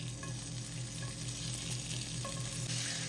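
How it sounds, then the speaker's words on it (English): Onions sizzle in a pan over medium-low heat for chicken fajitas, a steady soft frying hiss with light stirring clinks throughout, no voices. "I'm just going to add all the vegetables in. And I'm going to start with the onions"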